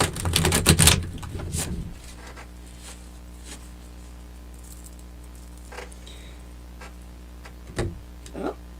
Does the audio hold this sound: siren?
no